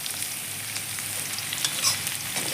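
Pirandai (adamant creeper) fries in hot oil in a pan, giving a steady, close sizzling hiss with faint crackles and occasional stirring scrapes throughout.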